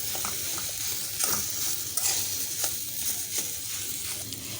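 Boiled mashed potato filling with spices being stirred in a pan for stuffed bottle-gourd leaf rolls: steady sizzling with repeated scraping strokes of a spatula, close and alone.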